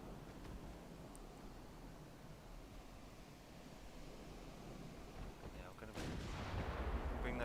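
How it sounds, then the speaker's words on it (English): Distant naval gunfire from a battlecruiser's 10-inch guns in the Ultimate Admiral: Dreadnoughts naval warfare game, a steady roar of sea and wind with a heavier rumbling burst swelling near the end. "those 10-inch guns"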